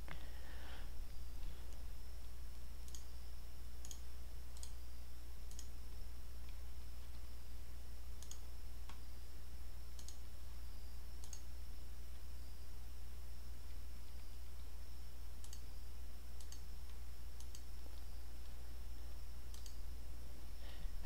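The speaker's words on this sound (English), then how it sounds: "so I'll double click on the sprite." Mouse clicks while working in VSDC video editing software, a series of sharp, faint clicks spaced irregularly, some in quick pairs, over a steady low hum and hiss.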